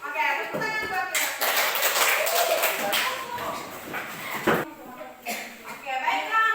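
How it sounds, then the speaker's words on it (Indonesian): Schoolchildren clap together in an Indonesian classroom, a dense burst of applause mixed with chatter and voices, fading briefly midway before picking up again. "Oke, tepuk tangan buat kita."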